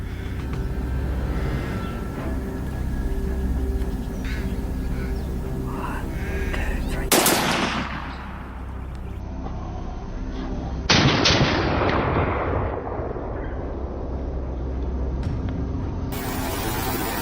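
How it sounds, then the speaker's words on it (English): A hunter's rifle fires two loud, sharp shots a few seconds apart on a mountainside farm during a wild boar hunt, each cracking out and ringing off in a long fading tail over a steady low background rumble. "The gunshot rang out, clear and final"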